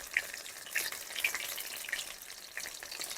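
Spine gourd cooked in a mustard curry bubbles in a pan with a soft, faint sizzle and light popping, low in level and steady, with no voices.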